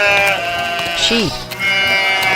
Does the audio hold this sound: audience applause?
no